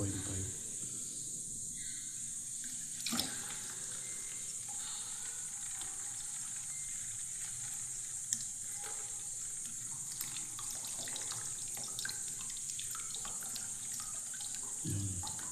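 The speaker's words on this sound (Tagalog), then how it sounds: "Tapos nalagyan ulit natin ng tubig." Water pours steadily into a 1.5 litre plastic bottle, a continuous hissing, gurgling trickle at close range with a few small knocks of the bottle, quiet overall.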